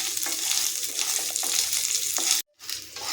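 Grated coconut, onion and garlic sauté in a pan, a close, steady sizzle broken by spatula scrapes and stirring clicks, with one brief cutout of sound partway through and no speech.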